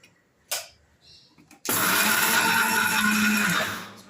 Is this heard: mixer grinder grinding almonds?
yes